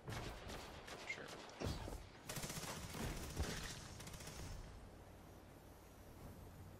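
Gunfire and explosive blasts in a Destiny Iron Banner match, sharp cracks and rapid rattling bursts over the first few seconds, including a sniper rifle shot, then fading into a quieter game ambience.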